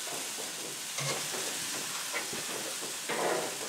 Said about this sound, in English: I'm going to put the other steaks in here to start cooking up.